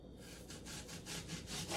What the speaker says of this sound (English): So I'm gonna slice it into thin slices like that.